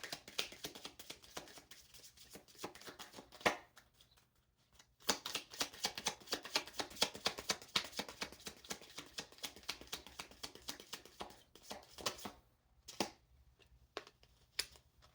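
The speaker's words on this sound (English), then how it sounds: "So we're going to just shuffle twice from this little message deck." Cards riffle and slap together in quick crackling bursts, paused briefly and then repeated, close and fairly quiet.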